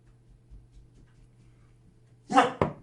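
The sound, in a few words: dog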